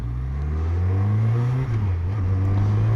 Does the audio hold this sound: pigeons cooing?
no